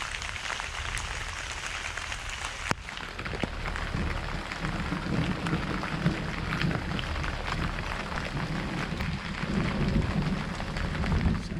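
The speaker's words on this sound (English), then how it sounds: "it's quite serene to hear the sound of the rain hitting the leaves on the ground." Steady rain falls on leaf litter beside Kannamangala Lake near Bengaluru, a continuous close patter that holds even throughout with no voices.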